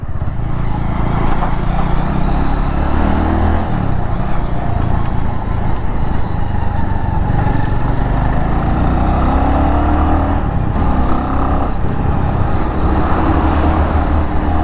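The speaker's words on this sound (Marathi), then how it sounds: "मला वाटतं ही दोनशे वीस सी सी असाव्या कारण एकशे पन्नास सी सीला एवढं पिकअप घेणं बजाजमध्ये तर शक्य नाही आहे" A Bajaj motorcycle of about 220 cc accelerating on a road, heard from the rider's seat as a loud, steady engine drone mixed with heavy wind rush and road noise, rising slightly as it picks up speed.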